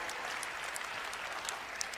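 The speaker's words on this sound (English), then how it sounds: "Give yourselves a round of applause." Audience applause at a large business conference event: continuous dense clapping from a crowd, fairly distant and soft, with occasional sharper individual claps standing out.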